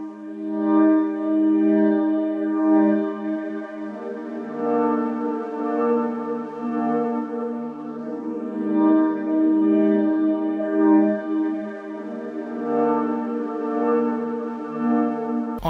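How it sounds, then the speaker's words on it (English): A slowly evolving synth pad from Analog Lab holds a simple root-note 1-5 chord progression for R&B sample-making, sustained and continuous with a steady level and gently shifting harmonics throughout, no voices present. "I laid down this 1-5 chord progression, just the root notes, and it sounds like this."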